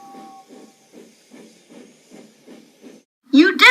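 A small narrow-gauge steam engine puffs away in eight even, soft chuffs that grow fainter as it leaves, followed by a brief voice at the end.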